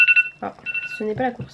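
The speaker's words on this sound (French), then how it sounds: "ça c'est mon téléphone qui me dit vas-y" A mobile phone gives a short tonal alert, a couple of quick beeps at the start, followed by someone talking close to the microphone.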